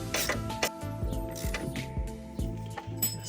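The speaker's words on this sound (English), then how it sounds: "Spanner in there." Metallic ratcheting clicks and clinks from a spanner tightening the rear shock mount on a BMW E90 with an LS1 engine, close and fairly faint, in short irregular bursts.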